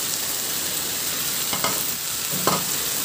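Shrimp and okra sizzle steadily in a hot frying pan, with a couple of brief scraping stirs cutting through the continuous close crackle.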